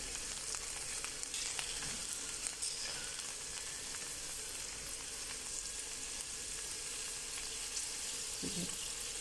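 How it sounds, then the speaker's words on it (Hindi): Okra (bhindi) frying in a pan for a bhindi gosht curry, a steady soft sizzle running the whole time with a faint clink near the end. "ये देखें भिंडी, ये भी फ्राई हो रही है तकरीबन"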